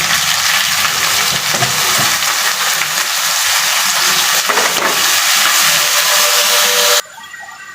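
Loud, steady sizzling and frying as chopped vegetables go into a pan of fried onion and chili for a curry, with stirring clatter throughout and a sudden drop to quiet near the end.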